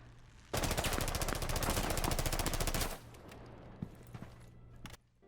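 In Rainbow Six Siege, an unsilenced gun fires a loud, rapid automatic burst of about two and a half seconds, followed by a few faint scattered clicks and footsteps.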